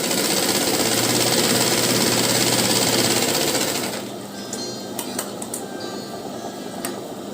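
Sewing machine stitching a blouse lining, a loud, fast, steady mechanical whir for about four seconds, then quieter handling with a few light clicks.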